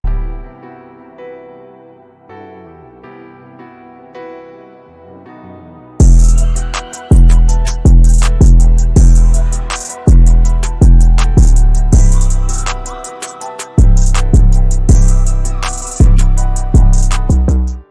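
A soft, quiet melodic intro gives way to a loud hip-hop beat with heavy, distorted, clipping drums pounding in a steady rhythm.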